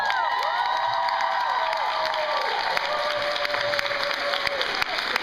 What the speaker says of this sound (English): Applause for Akiko.